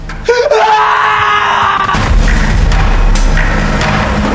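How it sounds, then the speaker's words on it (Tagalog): A man's sudden, loud scream cuts in, used as a sound effect in a horror series. It is followed by a low, tense rumble. "Sumigaw si Ji-hoon."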